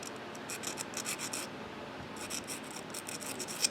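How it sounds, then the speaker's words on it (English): Close, quiet rasping of a glass bugle bead's sharp edges being ground down for a seed bead fringed earring, in short scratchy bursts with a pause midway, no talking. "I'll go over any sharp edges and just kind of grind it a little bit"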